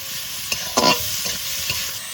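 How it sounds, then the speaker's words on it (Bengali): Fish oil, salt, turmeric and onion frying in a pan for a katla fish curry, a loud close sizzle with a few sharp stirring scrapes and one brief louder flare of spatter, no speech. "এবার মাছের তেল আর পেঁয়াজ একটু ভেজে নিই"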